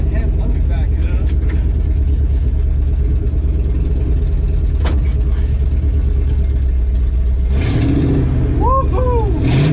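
A 1970 Ford F250 pickup truck's engine rumbles steadily and close throughout while the truck reverses, with a brief voice near the end.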